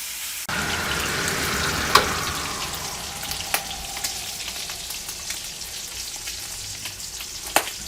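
Dinakdakan meat fries in a pan with a steady, close sizzle that begins abruptly and continues throughout, with a few small pops and clinks rising above the hiss.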